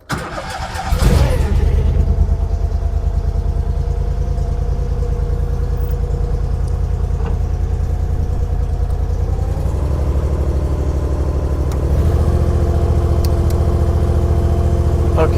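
A CFG Industrial KRW232 Chinese skid steer loader engine cranks and catches, then settles into a loud, steady close-up idle with a slight shift in pitch partway through, run with choke and a little throttle.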